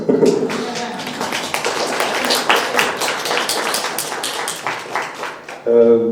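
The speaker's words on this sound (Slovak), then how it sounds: "Chce to potlesk." An audience claps at a university discussion event in Bratislava, a dense, steady patter of hands that lasts several seconds and then breaks off abruptly.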